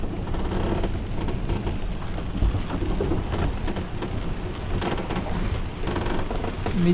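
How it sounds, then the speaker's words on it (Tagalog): Heavy typhoon rain pours steadily outside with deep thunder rumbling underneath, a loud, continuous roar with no talking. "Bagyo na to. Ayan, malakas din sa labas."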